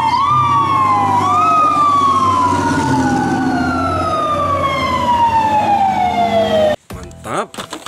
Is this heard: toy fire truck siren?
yes